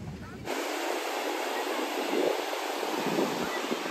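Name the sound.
sea waves at Velneshwar beach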